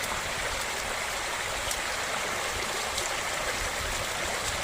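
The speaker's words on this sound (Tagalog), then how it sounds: "Pero malakas pa ang labas ng tubig eh." Strong, steady rush of flowing water, loud and close, a continuous hiss like water pouring out hard through a broken fishpond dike.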